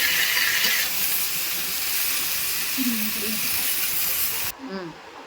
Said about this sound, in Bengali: এগুলো একটু ভালো করে ভেজে নেব